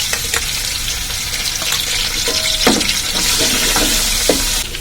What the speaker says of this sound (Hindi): तो जी अब इसमें जाएगा लहसुन अदरक का पेस्ट